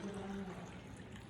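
Coffee pours into a glass while a cocktail is being made, a short steady liquid stream close by with a faint low murmur behind it.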